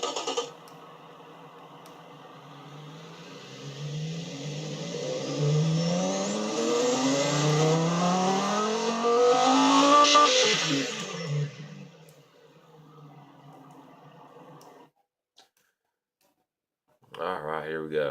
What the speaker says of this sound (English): Dual exhaust, high flow 3-way with 2 reverse flow mufflers